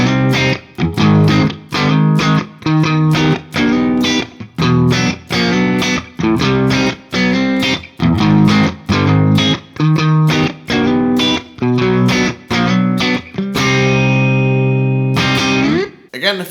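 A heavily distorted electric guitar plays a chord progression in C Hungarian minor, with repeated rhythmic chord stabs and short pauses, loud and close, ending on a longer ringing chord, with no talking.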